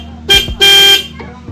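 A blaring aftermarket car horn sounds twice, a short blast followed by a longer one, with a faint click and engine hum around them.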